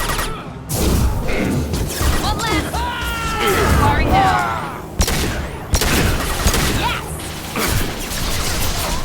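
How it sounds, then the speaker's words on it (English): Rapid, loud gunfire in a Mass Effect combat scene. Dense bursts of shots and crashing impacts run through the whole stretch, with voices shouting over the fight and a sharp, warbling energy effect partway through. "One left! Firing now!"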